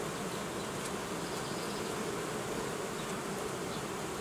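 A honey bee colony in July buzzes as a steady, dense hum of many bees, continuous and close throughout with no voices.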